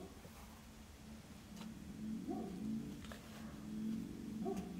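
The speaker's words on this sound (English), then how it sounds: "my neighbor's dog barking is not coming across too loudly on my video" A neighbor's dog barks faintly in the distance, a few muffled yips and whimpers heard indoors against a low background hum.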